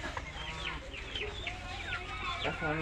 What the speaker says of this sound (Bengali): সোনালী মুরগি তো অনেক বড় হয়েছে মাশাআল্লাহ